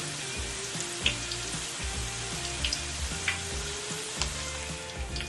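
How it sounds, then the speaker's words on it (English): Wontons fry in a pan of hot oil with a steady, close bubbling sizzle and scattered small pops and spatters throughout. "So just gonna leave that, let it do, fry"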